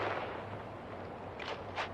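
Grenades explode in the Star Citizen video game as two quick muffled blasts over a steady low rumble.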